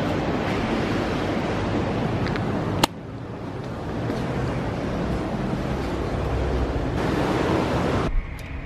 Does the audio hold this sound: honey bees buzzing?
no